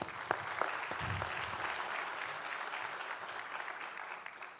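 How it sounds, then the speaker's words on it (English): A small audience gives a round of applause at a talk, a steady even patter of clapping held throughout, moderately close and with no one speaking over it. "Small round of applause for George."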